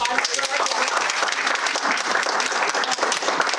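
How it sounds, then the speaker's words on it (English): Dense, even applause from an audience at a Toastmasters meeting fills the room. The clapping is close and loud and continues steadily throughout. "Another round of applause."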